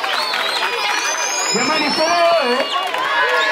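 A crowd gathered at a school celebration cheers and claps for the teachers, a loud continuous roar of voices and whoops with a speaker talking over it.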